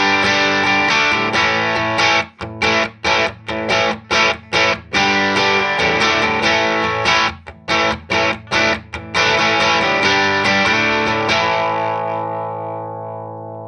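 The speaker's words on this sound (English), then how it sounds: "you can take the fuzz out entirely and you can make it behave more like a distortion box" Electric guitar through a Skreddypedals Lunar Module fuzz pedal dialed toward distortion, sustained saturated chords broken by a run of rhythmic choppy stabs, then ringing out and fading, loud with no talking.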